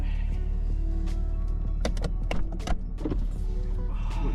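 The power convertible roof of a 20-year-old Porsche Boxster lowers with a steady electric motor whir close by, broken near the end by a few sharp mechanical clicks and clunks as the top folds away.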